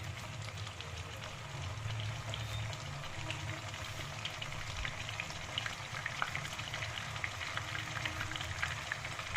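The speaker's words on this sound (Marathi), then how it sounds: "तर याला मी फ्राय करून घेणार आहे अगोदर अशा प्रकारे।" Paneer slices fry in a pan for a Hyderabadi paneer masala, giving a steady, dense crackle with a low rumble underneath that runs the whole time without pause, and no one speaks.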